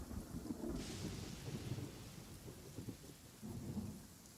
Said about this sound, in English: You have to do one quest to stop this rain.